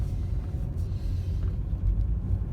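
A large truck rumbles close behind a car on a city road. The engine gives a deep, loud, continuous low drone with slight surges, heard alone without talk.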